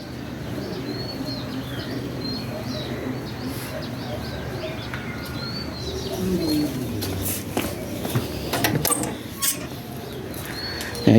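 Pigeons coo steadily in a low, rolling chorus, with scattered chirps and some wing flutters; the cooing continues without pause throughout.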